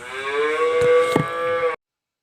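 A single calf on a Danish dairy farm gives one long, loud, close moo lasting well over a second, then silence.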